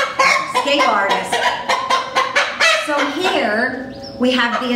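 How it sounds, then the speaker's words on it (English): A rooster calls loudly and close, with a string of clucks and a drawn-out crowing cry, repeated several times. "Now this is a rooster."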